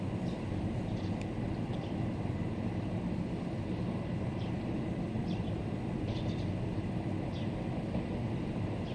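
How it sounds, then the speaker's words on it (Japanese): A steady, rushing rumble of a Meitetsu express train speeding through a station platform without stopping, with faint high squeaks and clatter over the continuous roar. "1番線は通過列車です。"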